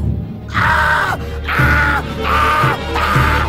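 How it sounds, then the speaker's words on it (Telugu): A woman's repeated anguished screams in a Telugu thriller film, with four loud drawn-out cries in a row separated by short gasping breaks, close and intense. "హీరోయిన్ అరుపులు"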